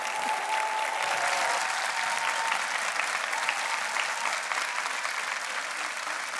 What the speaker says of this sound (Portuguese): Um aplauso para o Mário Daniel